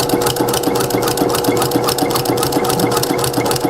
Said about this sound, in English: I've completed sewing up my seam